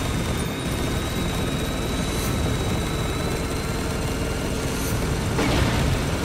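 A Little Bird helicopter in the video game Spec Ops: The Line, a loud, continuous rotor and engine roar with a faint steady whine above it and brief bursts of impact noise.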